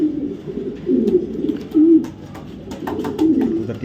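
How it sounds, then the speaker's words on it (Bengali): Racing pigeons from a club coo repeatedly in low, throaty rolling phrases, near and steady, with a few faint clicks and rustles between the calls. "কবুতরটা একটু দেখাই, কবুতরটা একটু দেখেন"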